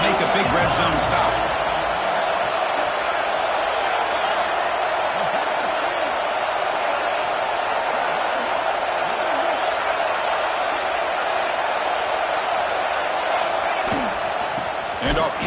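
A stadium crowd at an Ohio State football game roars steadily as the defense faces a red zone stand, a loud sustained wall of noise with a few sharp bangs near the start and end.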